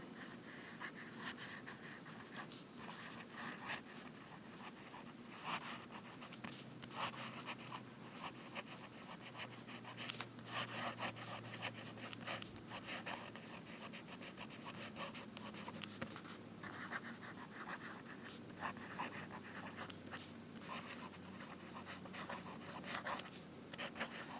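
A Jim Hinze fountain pen with a smooth, wet 14K gold nib scratching lightly across paper, soft continuous strokes in close, quiet bursts with brief pauses.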